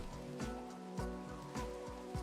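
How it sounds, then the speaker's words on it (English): Rain falls steadily in the Minecraft video game, a soft continuous hiss with a faint layered music-like tone beneath it and no one talking. "It's raining."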